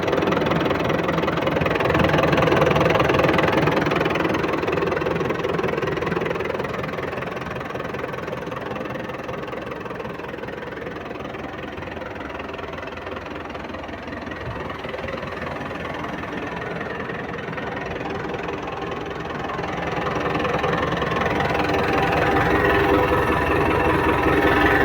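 A tractor with an engine that has never been opened idles steadily for about twenty-five seconds, a close, continuous low rumble that dips slightly in the middle and swells again near the end, with no talking.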